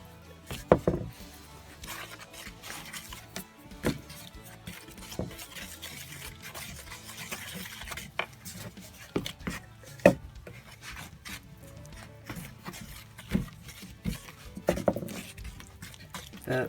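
Wet cement mix stirred with lolly sticks, a close, quiet scraping and rubbing with irregular clicks and knocks as the sticks work through the thick paste, with no voices.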